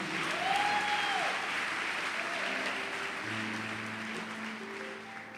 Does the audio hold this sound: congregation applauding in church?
yes